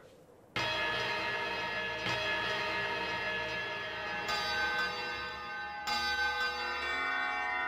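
Bells ringing in the video game Klonoa Phantasy Reverie, a loud resonant bell tone striking in after a quiet start and sustaining, with further distinct bell strikes layering in at intervals, each ringing on with long shimmering overtones.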